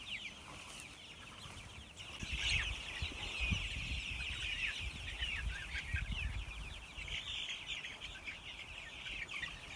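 Laying hens in a pasture pen cluck and chirp at a distance, a soft scattered chorus over a breezy outdoor background that is fairly faint overall.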